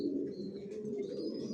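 Racing pigeons coo in a loft, low throaty burbling calls layered over one another, close and continuous, with a faint higher chirp drifting above.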